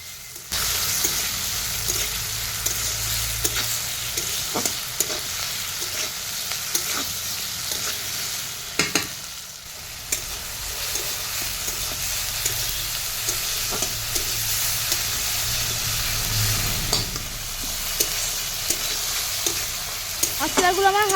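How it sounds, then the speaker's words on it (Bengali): Spices, onion, green chillies, tomato and salt stir-fry in oil with a steady crackling sizzle, while a spatula scrapes and turns them in occasional strokes throughout. "এবারে মশলাগুলো আমি হালকা নাড়াচাড়া করে ভেজে নিব"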